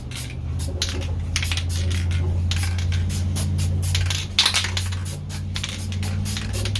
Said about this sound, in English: I'm lightly misting so there are no drips.